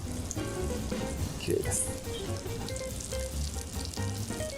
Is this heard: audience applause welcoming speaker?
no